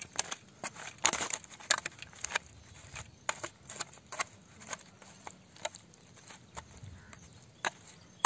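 Small tutti frutti pieces being stirred with food colouring in a bowl: irregular soft clicks and scraping taps from a spoon, close and quiet, with short bursts and pauses.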